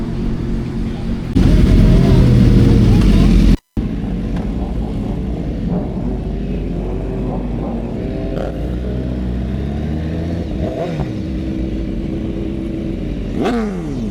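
Sport motorcycles, a BMW S1000RR and Suzuki GSX-R models, ride out together: a loud roaring engine burst and revving up close, then steady engine drone with rising and falling passes, occasional wind buffeting.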